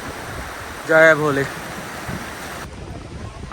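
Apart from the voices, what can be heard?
mountain stream water gurgling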